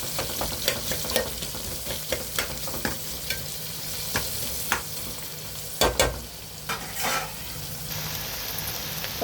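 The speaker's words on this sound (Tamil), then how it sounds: "நல்லா வதங்கட்டும்." Three medium onions sautéing in oil in a pan, stirred now and then with a spoon, making a steady close sizzle broken by sharp scraping clinks, no voices.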